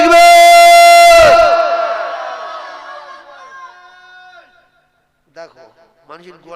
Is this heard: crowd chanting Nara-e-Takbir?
yes